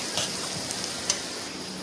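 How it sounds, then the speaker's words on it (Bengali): Onions frying in a pan for a chicken masala, a steady soft sizzle with faint crackles and a few small clicks, close and continuous without talk. "পেঁয়াজগুলো ভালো করে ভেজে নেবো মাংসের জন্য, লাল লাল করে"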